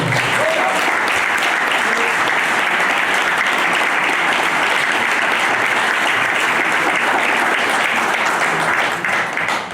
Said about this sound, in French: Donc, vous pouvez les applaudir bien sûr.